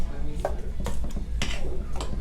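Thawed frozen berries with plenty of liquid being stirred in a bowl for a smoked berry cobbler, giving four or five wet scraping strokes and light clinks of a utensil against the bowl at close range, with no talk.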